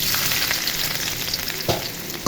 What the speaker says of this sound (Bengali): তেল গরম হয়ে গেছে এখন পেঁয়াজ কুচি দিয়ে দিব